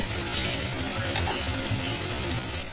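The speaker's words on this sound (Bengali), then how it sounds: "মশলাটা অনেকটা কষানো হয়ে গেছে" Masala with tomato frying in a pan for a wedding-style peas and paneer curry, a dense steady sizzle with scraping stirs throughout, close and fairly loud, with no talk.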